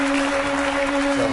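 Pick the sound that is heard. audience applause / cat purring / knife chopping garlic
audience applause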